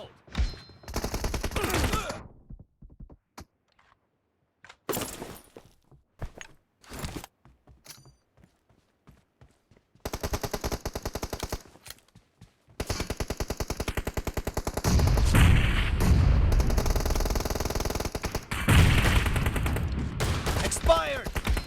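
Rapid shotgun and automatic gunfire in a PUBG Mobile team deathmatch, bursts of sharp blasts separated by short gaps, then denser sustained firing toward the end, loud and close.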